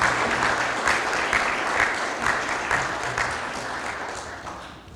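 Audience applause at a county STOP DWI awards presentation honoring health department staff, a full, loud burst of many people clapping that gradually softens toward the end.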